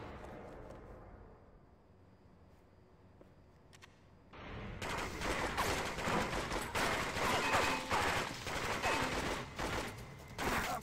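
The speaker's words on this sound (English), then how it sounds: "I hear shots." Gunfire in the video game 007 Agent Under Fire, night mission: after a quiet start, loud bursts of rapid shots and firefights erupt and continue densely to the end.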